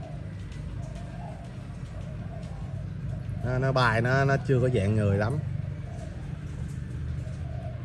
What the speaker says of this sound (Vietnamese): Cu bông thì nó lại hơi nhát, nó không có xuất hiện bên ngoài nhiều.